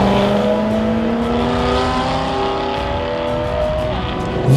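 A BMW E92 M3 with its V8 engine revs in steady held tones through a series of gear changes, loud and close, with a sharp blip of throttle right at the end.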